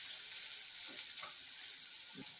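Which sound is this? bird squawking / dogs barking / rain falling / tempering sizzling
tempering sizzling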